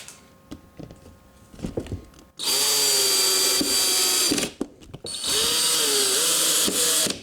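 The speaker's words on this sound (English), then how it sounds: "So for this bit I'm choosing to use a drill" A power drill driving screws while fitting fog lights to a Suzuki Grand Vitara whirs loudly in two long bursts, briefly easing off between them, after some quiet clicking and handling noises.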